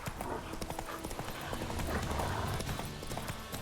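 Galloping hooves of the horse Roach in The Witcher 3: Wild Hunt, a fast, steady clip-clop rhythm over a low rumbling game backdrop.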